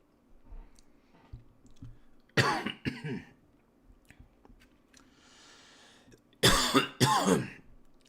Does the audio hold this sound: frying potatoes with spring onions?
no